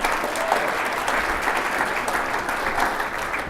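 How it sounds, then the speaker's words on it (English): An audience at a university lecture applauding steadily, a dense wash of clapping that holds at an even level throughout without voices. "So let's give them a warm round of applause as well."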